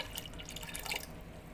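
Liquid Nitrobacter poured from a container into a homemade F2 EM microbial mixture, a short, faint trickle and drip of liquid heard close and alone.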